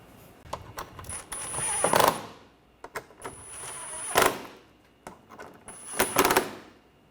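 A ratchet tightening bolts on the AC condenser of a 2013–2019 Ford Escape 2.0L, three close bursts of rapid clicking, each ending in a sharp whirring spin with short gaps between.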